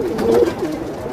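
Muradabadi kalpar pigeons cooing close by, a soft throaty warble that swells and fades over about a second, with no talking.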